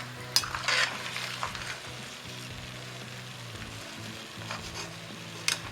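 Sweet diamond snacks fry in hot oil with a continuous crackling sizzle, broken by a few scraping stirs and clinks of a utensil in the pan, close by and with no talk.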